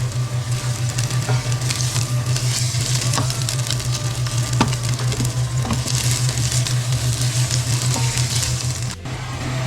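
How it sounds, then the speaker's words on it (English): Onions sizzle and crackle steadily in a pot for a lamb stew, with occasional scraping stirs and a low hum underneath, close and continuous with no talking. "We are going to cook our onions until they are golden brown."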